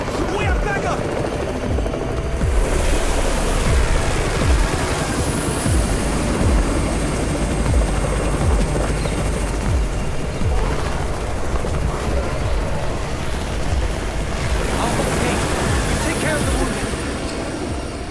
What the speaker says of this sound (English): It's the Raven's chopper! We have backup!